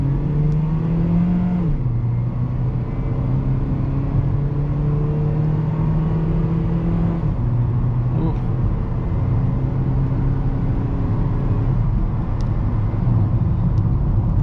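A 2008 Honda Civic LX engine pulls under acceleration from inside the car, a loud steady hum whose pitch climbs, drops at each gear change, then rises again, with road rumble beneath.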